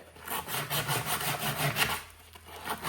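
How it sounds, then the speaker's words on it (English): Sandpaper rubbed around a copper stub-out on a plumbing repair, giving a steady rasping scrub in quick back-and-forth strokes, close and continuous with no talk. "now we're gonna use this sandpaper and we're gonna go around our copper stub out"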